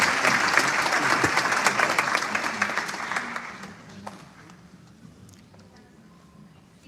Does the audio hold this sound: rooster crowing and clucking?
no